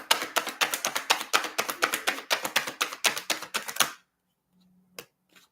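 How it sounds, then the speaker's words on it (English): A tarot card deck riffled and shuffled in a rapid run of crisp, close card snaps for about four seconds, then stopping abruptly into near silence with one faint tap. "Now I shuffled the deck."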